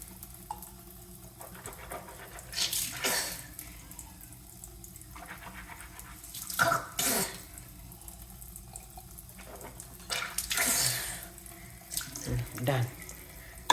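Tap water runs into a glass in steady bursts that rise and fall, swelling loudly several times over roughly fourteen seconds with brief quieter gaps between pours.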